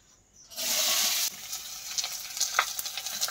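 Onions drop into hot oil already seasoned with cumin and bay leaf and burst into a loud, close sizzle, which then eases into a continuous crackling fry with small pops.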